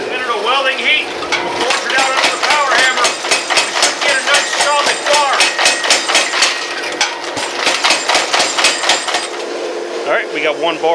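Steel cable being forge welded for a serpent-core Viking sword is struck by a hammer in a steady run of close, ringing metallic blows, with a brief pause partway through and a faint grinding or engine hum running underneath.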